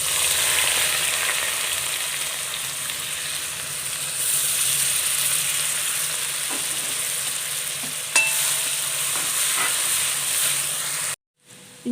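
Chopped ginger, garlic and green chillies sizzling as they fry in a pan for chicken curry, a loud continuous close hiss with occasional stirring clinks, cutting off abruptly near the end.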